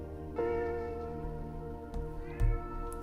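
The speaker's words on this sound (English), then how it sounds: "You guys might hear my cats going off in the background" Pet cats meow in the background, with a drawn-out yowl followed by a few shorter cries, moderately close and fairly faint.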